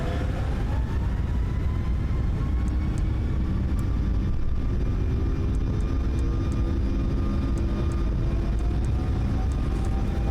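A Boeing 737 MAX in LOT livery begins its takeoff roll in a flight simulator, engines spooling up to a steady, loud roar with rising turbine whine and a faint rhythmic rumble from the runway.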